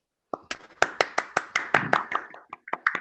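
A small group claps during a Spanish-language podcast: a dozen or so sharp, uneven hand claps, close and crisp, with short gaps between them and no one speaking over them.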